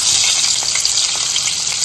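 Butter sizzling steadily as it hits hot oil in a pan while cooking green paneer, a dense continuous frying hiss, close and loud, with no talk.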